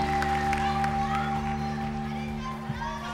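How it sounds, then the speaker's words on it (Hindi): A studio audience on a Pakistani game show applauds in a scattered, moderate way beneath a constant electronic hum. Children's voices and chatter mix in throughout. "तालियां बजा दें।"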